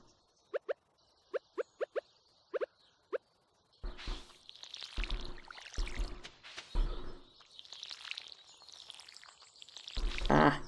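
In Stardew Valley, a watering can sprinkles crops in several bursts of pouring, splashing water, set after a quick run of soft plopping game sounds, all close and clear with no voices.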